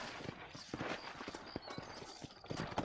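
Horse hooves clip-clop at a walking pace in Red Dead Redemption, set in New Austin, a quiet series of uneven sharp knocks over soft background ambience.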